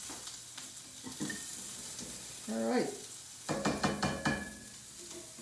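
Food sizzling and stir-frying in a pan for cashew chicken, intermittent scraping and stirring bursts over a soft sizzle, with a brief spoken remark.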